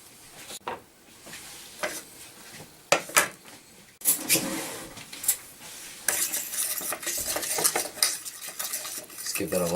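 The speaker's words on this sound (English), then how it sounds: "Give that a light mixing so it's kind of evenly distributed through there." A utensil stirs a fish seasoning mixture with dill and black pepper in a dish, giving repeated close clinks and scrapes against the dish that grow busier and louder toward the end.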